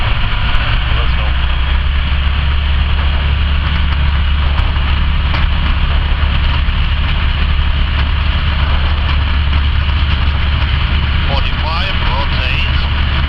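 A light aircraft's engine on a first solo flight holds a loud, steady drone as the throttle is set for takeoff, continuous and near throughout, with a pilot's voice briefly heard over it.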